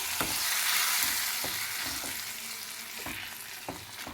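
Fried tempering is mixed into bisi bele bath, a soft sizzle under a few spaced scraping strokes of a spoon stirring the thick rice and lentil dish, with no one speaking.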